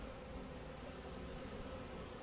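Honeybees in a weak wintering hive hum in a steady, faint, continuous drone at close range, with no voices.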